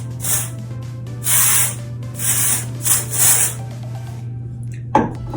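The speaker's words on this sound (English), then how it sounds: "Go through my texture spray." A can of texture spray hisses onto hair in several short bursts, close and fairly loud, with quiet pauses between them.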